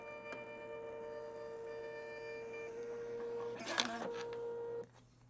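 A DuraLabel Bronco Max industrial label printer prints a label with a steady electronic whine and tonal hum, then a short burst of mechanical feeding and cutting noise, and stops abruptly near the end.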